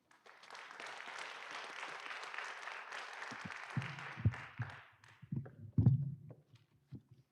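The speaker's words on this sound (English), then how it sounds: "clap for the veterans" Applause from an audience of veterans and guests at a school board meeting, a broad steady clapping that fades after a few seconds, followed by scattered thumps and bumps.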